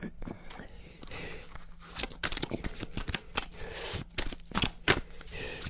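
Oracle cards being shuffled by hand during a tarot-style reading, giving repeated soft papery riffles and snaps at close range, with quiet room noise between bursts and no talk.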